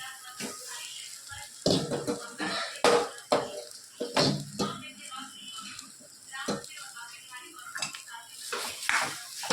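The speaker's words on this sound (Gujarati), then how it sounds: "સરસ બધું આપણે મિક્સ કરી લઈએ. એના અંદર થોડુંક કસૂરી મેથી, થોડાક ધાણા, બટાકા આપણે બધા નાખી દઈએ." Potatoes being mixed with kasuri methi and coriander in a pan: a utensil repeatedly scrapes and clatters against the metal, loud and close, in uneven bursts with quieter stirring between.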